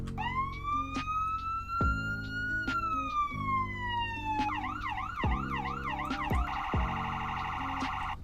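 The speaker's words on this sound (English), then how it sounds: "Here are our sirens." Police sirens from a car in the Greenville driving game, cycling through a rising wail, a fast yelp and a warbling two-tone pattern, loud and continuous with no talk.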